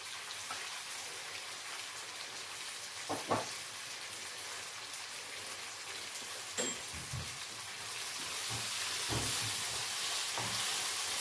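Five garlic cloves frying in a pan for a sausage and potato tagine, a steady close sizzle and crackle with occasional louder pops, growing slightly louder near the end, with no talk.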